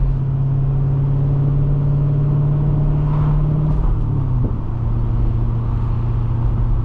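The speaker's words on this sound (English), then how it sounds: "Gotta rev it for the man." A C6 Corvette V8 with over 400 horsepower idles with a loud, steady low rumble, then gets a brief rev and settles back to idle.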